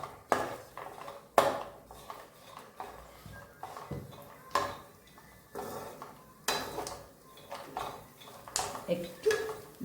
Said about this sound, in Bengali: সিড, পামকিন সিড সব একসঙ্গে আমি এবার একটু ভেজে নিচ্ছি